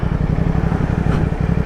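A CF Moto 450 SR-S parallel-twin motorcycle rumbles steadily while being ridden, a smooth, continuous low engine drone with a faint pulsing beat and no speech.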